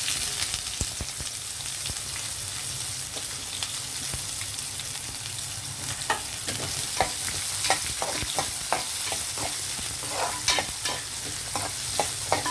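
Chopped onions sizzle in hot oil with tempering spices in a pan, a steady fry broken by sharp scraping and stirring clicks that grow more frequent toward the end.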